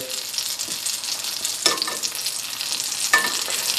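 Shishito peppers fry and sizzle in a pan with steady broadband crackle, while a fork stirs and flips them, giving a couple of sharper clinks and bursts of hiss.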